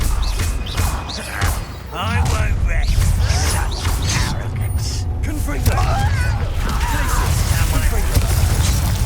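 A Confringo spell explosion in Hogwarts Legacy bursts among thuds and crashes of a busy fight, with voices shouting and talking over the clatter.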